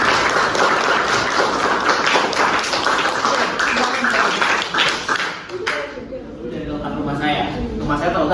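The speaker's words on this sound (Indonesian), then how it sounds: "Oke, kasih aplaus dulu." An audience claps for a student's mental-map presentation, loud dense applause filling most of the span before thinning out and fading near the end.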